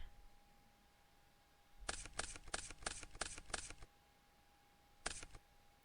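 Playing cards shuffled during a competitive card game finals match: a rapid run of six or seven crisp riffle bursts, then one more short burst a second later, fairly close against a faint steady hum, with no talk.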